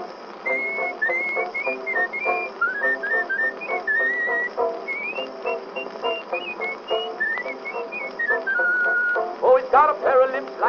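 A man whistles a lively, ornamented tune on an old vaudeville recording, clear and prominent over narrow-band, hissy accompaniment.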